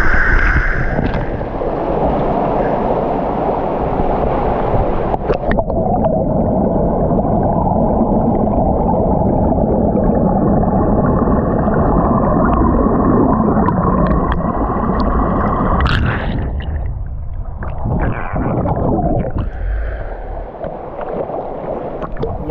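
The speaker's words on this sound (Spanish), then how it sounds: "Ahora estoy detrás de la cascada o dentro de ella." Waterfall on the Llucena river at Toll del Salt heard from behind the falling curtain of water, a loud, enveloping, roaring rush that dips and shifts near the end as the listener moves.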